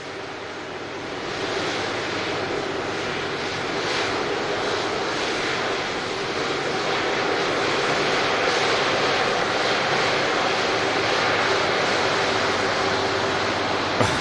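A Virgin Atlantic Airbus A330-300 arriving from Atlanta at Manchester Airport gives a steady, loud jet roar that swells slightly and holds for the whole stretch, with no voices.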